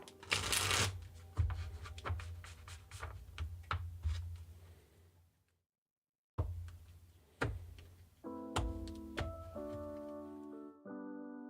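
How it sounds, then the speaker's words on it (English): Tarot cards shuffled in repeated crisp riffling bursts over several seconds, close and fairly loud, a brief pause midway, then music begins under the final shuffles. "Let me finish shuffling."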